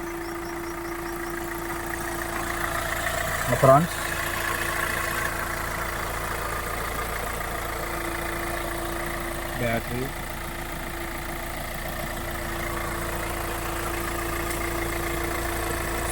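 A 2015 Hyundai i20 Sportz diesel engine idles with a steady, even hum and a faint rattle throughout, while someone talks over it and two short knocks sound nearby.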